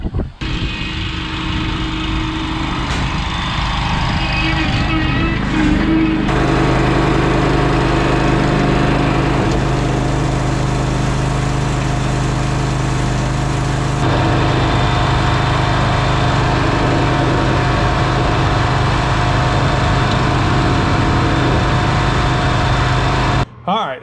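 A Hustler Super 88-inch stand-on lawn mower with its deck set at 3.5 and the wings out runs its engine loud and close, an even droning hum that steps up in pitch partway through as the throttle rises, with a brief cutoff at the end.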